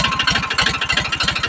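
A tractor engine runs close by with a steady, rapid low thumping beat, loud and alone.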